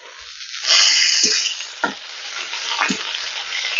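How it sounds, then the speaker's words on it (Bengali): Chopped onions hit hot oil in a wok and sizzle loudly at close range, a steady frying hiss with a few clinks of stirring over it and no talking. "পেঁয়াজটাকে খুব সুন্দর ভালোভাবে ভেজে নিতে হবে"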